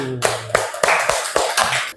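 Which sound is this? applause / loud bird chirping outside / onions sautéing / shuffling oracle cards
applause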